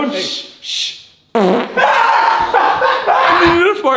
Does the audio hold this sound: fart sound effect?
yes